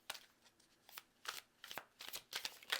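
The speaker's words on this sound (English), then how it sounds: "And I would shuffle the cards, and let's see what flipped up here." Oracle cards being shuffled by hand, a quiet series of brushing, riffling bursts at an uneven rhythm, close and soft with no talking.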